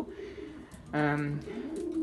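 Female pigeons in a breeding loft give one rolling, throaty coo close by in the middle, set against a low background murmur.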